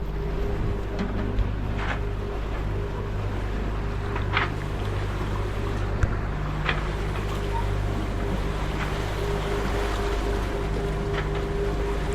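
A sailboat motors across open sea, its engine giving a steady low drone under the wash of water along the hull, with a few faint knocks and splashes.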